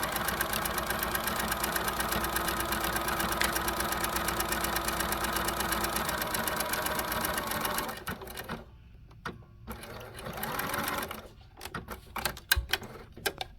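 A sewing machine runs a lock stitch in a steady fast mechanical rhythm for about eight seconds, then stops and starts in short bursts.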